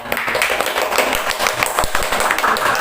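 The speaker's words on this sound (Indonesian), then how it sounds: "tepuk tangan buat ibu-ibu semua." A room full of mothers claps together at a family parenting session, a dense, steady patter of many hands lasting a few seconds, loud and close.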